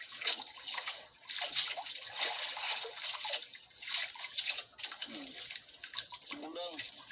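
A strong stream current rushes and splashes steadily close by, with a voice talking over the water and brief bird-like chirps now and then.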